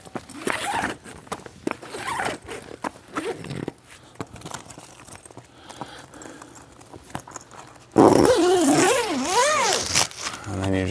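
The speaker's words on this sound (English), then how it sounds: "And then I would just zip it up." Zipper drawn closed on a CarCapsule outdoor car tent cover, a loud rasping zip near the end following quieter handling sounds and a person talking.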